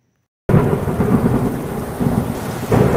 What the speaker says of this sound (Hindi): तभी अचानक तेजदार हवाएं चलने लगी और जोरदार बारिश होने लगी।